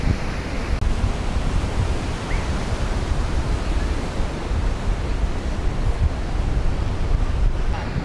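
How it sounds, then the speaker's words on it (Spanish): Ocean waves surge and break steadily near rocks along a coastal walk from Shelly Beach toward Manly Beach, a loud continuous wash of surf with wind rumbling across the microphone and no voices. "cerca de las rocas, donde se forman muchísimas olas"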